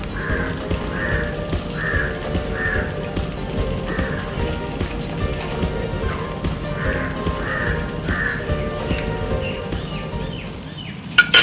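Tomatoes fry in a hot pan for coconut-roasted chicken curry, a dense, steady sizzle close by, while a crow caws repeatedly in the background; no one speaks.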